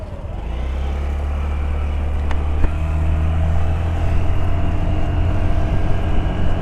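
A Honda Activa 125 scooter ridden along a road, a steady low engine drone with road and wind rumble building in as it gets going, continuous and fairly loud, with no talk.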